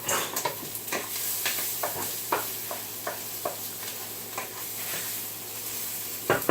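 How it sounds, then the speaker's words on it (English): Onions fry in a pan with a steady, close sizzle and hiss, broken by repeated scraping stirs at an uneven rhythm. "You gotta make sure you keep an eye on your onions so you won't burn them."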